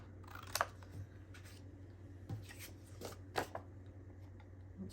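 Scissors snip through a paper time card in a few quiet, separate cuts over a low steady hum, with no voices.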